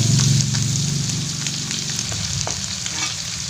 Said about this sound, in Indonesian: bawang putih, kita tumis